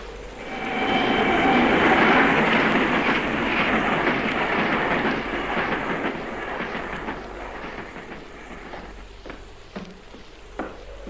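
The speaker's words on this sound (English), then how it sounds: "and now I'm going to switch that ghost train onto the siding." A ghost train switched onto a siding in a radio drama rumbles and roars loudly, then fades away, leaving a few sharp clanks and knocks of rails and couplings at the end.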